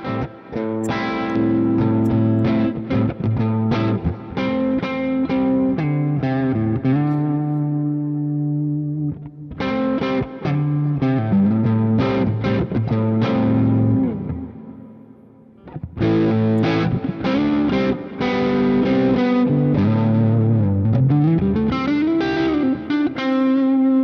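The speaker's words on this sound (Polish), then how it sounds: "Najciemniej i najwięcej drive'a." Electric guitar played through a combined overdrive and booster pedal set to a dark tone with full drive, thick distorted chords and riffs in three long phrases with brief pauses, loud and close, no talking.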